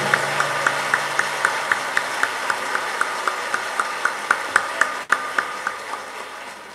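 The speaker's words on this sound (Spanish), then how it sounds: "Un aplauso grande a la Virgen María" Steady rhythmic clapping from a congregation at a healing Mass, many hands striking together in an even beat throughout, moderately loud and fairly close, with no voices over it.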